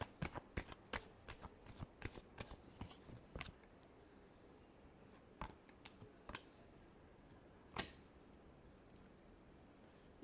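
Tarot cards are shuffled for a reading, a quick run of crisp riffling snaps followed by sparser, scattered card slaps and flicks, close and fairly quiet. No voices.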